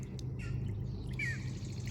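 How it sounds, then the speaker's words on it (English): A red-winged blackbird calls from reeds along a lakeshore, a short bright chirp and trill heard moderately near over a steady low background rumble. "That's the red-winged blackbird."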